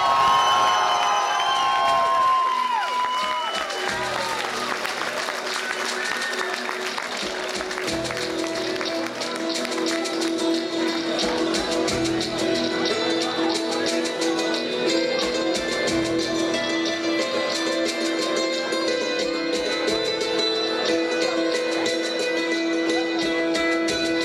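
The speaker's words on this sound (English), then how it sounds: "an extra applause at this point for the man on the magic machine" Concert audience at a show in Anthinoises, April 2012, breaking into loud sustained applause and cheering with whoops, running continuously under sustained musical tones and a voice introducing band members.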